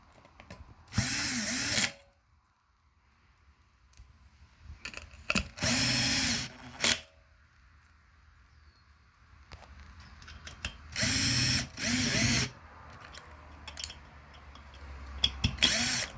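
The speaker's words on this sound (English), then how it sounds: "With this, we can take a cordless drill" A cordless drill drives screws into a plate while assembling thermoelectric modules, whirring in four short bursts spaced a few seconds apart, with quiet handling noises in between.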